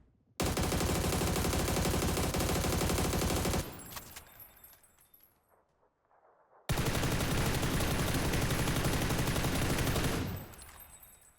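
Rapid sustained bursts of M4 automatic fire with a compensator in PUBG, two long loud volleys of roughly three seconds each separated by a pause with fading echo and faint clatter.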